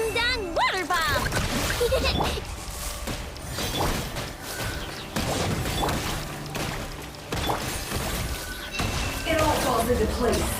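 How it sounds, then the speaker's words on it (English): Splashy water bomb impacts and crashing effects in Genshin Impact, busy and dense throughout amid game music and character voices speaking. "Ding dong water bomb!"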